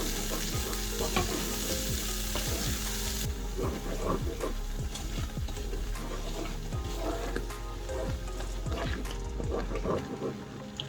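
Hidol hutki (fermented dried fish) chutney sizzles and crackles steadily in a hot pan, with occasional scraping and stirring sounds throughout, close up.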